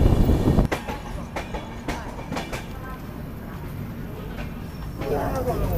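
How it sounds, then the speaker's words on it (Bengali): A Shatabdi Express rolls into platform 5 at Malda station, wheels clattering over rail joints in sharp irregular clicks, then settling into a softer rumble as it slows, with some background voices. "5 নম্বর প্ল্যাটফর্মে ট্রেন ঢুকেছে।"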